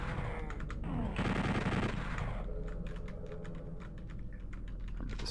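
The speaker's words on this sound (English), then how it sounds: "I'm gonna switch to chain gun for a while here." Rapid chain gun bursts from the shooter Doom 64, a dense, steady stream of quick shots that swells loudest in the middle and continues as lighter clattering fire.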